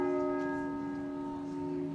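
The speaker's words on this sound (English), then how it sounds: "At midday, the bells tolled, so there was a chance to stop and think." Church bells tolling at midday, a sustained ringing tone with steady harmonics hanging over faint background ambience, continuous and fairly clear without speech.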